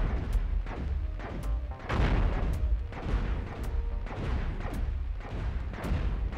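Heavy ship guns in the video game Cosmoteer boom repeatedly at a steady rhythm, deep and loud, each shot ringing out with a crashing tail, game-like artillery with no talking.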